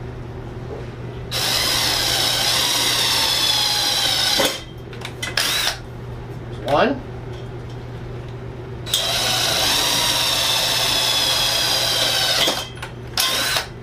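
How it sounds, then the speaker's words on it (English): An impact driver drilling holes whirs loudly in two long bursts with short stops and clicks between them, and a brief spoken word in the pause. "I'm using an impact driver because it's going to give me the most torque"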